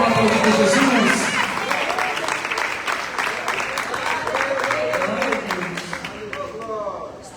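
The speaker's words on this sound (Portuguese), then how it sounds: "Você pode aplaudir ao Senhor" Congregation applauding during an evangelical church service at a miracle crusade, a steady broadband clatter of hands running under a preacher's voice and singing, fading slightly toward the end.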